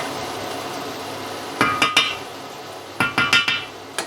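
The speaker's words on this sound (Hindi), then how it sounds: "चूल्हा मैंने ऐसा किया हुआ, तो यहाँ अब मैं इनको पलटूँगी थोड़ा थोड़ा।" Egg onion bhurji cooks over a very low flame while a spatula scrapes and taps against the pan, a faint background hiss broken by two clusters of sharp metallic knocks, close by.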